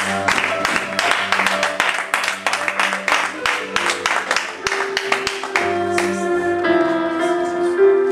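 Church congregation applauding and cheering for the Lord: loud, close, rhythmic clapping in quick bursts over sustained keyboard chords and a low hum, with voices rising beneath.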